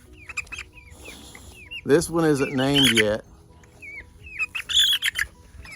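Young chickens with trimmed wing feathers cluck and chirp in short bursts close by, including a louder drawn-out squawk in the middle, while a person speaks briefly between the calls.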